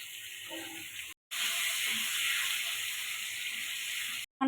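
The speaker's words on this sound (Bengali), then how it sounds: "আলুটা ভেজে নেব" Potatoes frying in oil for a prawn dish give a steady, close hiss. The hiss cuts out briefly twice.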